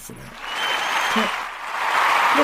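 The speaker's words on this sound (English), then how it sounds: "Clap it up for that." Audience applause at a talk on trusting one's inner vision, a broad wash of clapping that swells and holds for a couple of seconds, with a voice briefly audible at the start.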